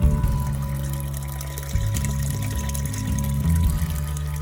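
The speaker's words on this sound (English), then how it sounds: "I'm going to pour another batch of cold, clean water" Cold water pours steadily into an Instant Pot pressure cooker pot, a continuous splashing fill with low resonant tones shifting as the level rises.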